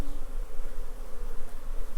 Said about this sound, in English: Wasp is just getting absolutely mauled in there.